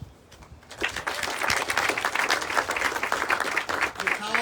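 Audience applause at an outdoor housing groundbreaking ceremony, a sustained round of clapping from a crowd that rises quickly and holds steady for several seconds, fairly close.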